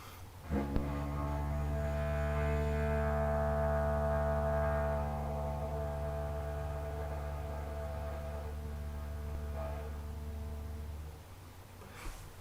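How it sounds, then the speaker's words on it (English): A very soft, low didgeridoo drone hums steadily for around ten seconds, quiet and even, before fading out. "if I play a really soft drone,"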